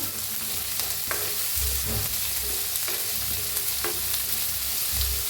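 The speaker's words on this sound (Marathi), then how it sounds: "एक चमचा जिरं टाकूया हलवून घेऊया" Cumin seeds roast in a pan along with garlic and ginger, giving a dense, loud sizzle with repeated scraping strokes of a spatula stirring at an uneven rhythm, close up.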